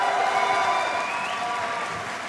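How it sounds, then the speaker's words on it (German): Applause at a DreamHack esports event, a crowd clapping steadily for a new team and fading slightly over two seconds, with a faint tone running through it. "Nochmal einen großen Applaus für das ganze neue Team."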